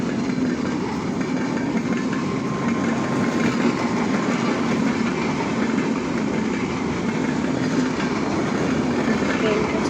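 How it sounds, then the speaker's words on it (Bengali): A train passes close on an open-air railway line, a loud continuous rumble and rattle of wagons over the rails that holds steady throughout with no break. "হঠাৎই দেখতে পাই ট্রেন চলে এসেছে।"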